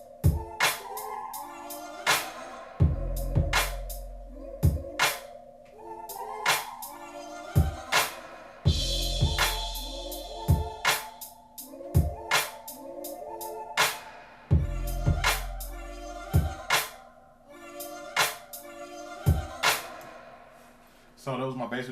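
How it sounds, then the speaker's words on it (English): A hip hop beat plays alone: a looping drum pattern with punchy low kicks and sharp snare hits running under a sustained melodic sample, steady and upfront for the whole stretch. "So my drum pattern by itself with the sample sounds like this."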